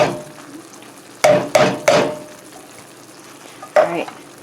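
Corn added to a pan of frying hot dogs, with soft frying sizzle under several sharp clanks and scrapes of a utensil stirring against the pan, four distinct impacts spaced irregularly, close by.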